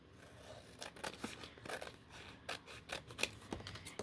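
Scissors snip repeatedly through thick paper while an old journal is cut and trimmed at home, giving quick, close crisp cuts in uneven bursts.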